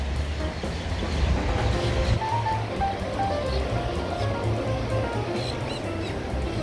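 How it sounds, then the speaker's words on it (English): Surf rolls steadily onto Flagler Beach, Florida, near a large pier, a continuous close wash of waves with scattered faint bird chirps above it. "A lot of waves and bird sounds."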